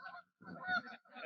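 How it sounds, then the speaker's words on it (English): Geese honk near the Cahaba River, a few loud, close calls in quick succession with a short pause between, heard alone without talk. "just pausing to enjoy the geese"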